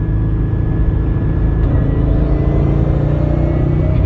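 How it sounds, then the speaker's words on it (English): Subaru WRX with a carbon fiber driveshaft pulling hard in fourth gear from about 60 mph, heard from inside as a steady, loud engine drone and road rumble with no talking. "4th gear pull, going 60, ready?"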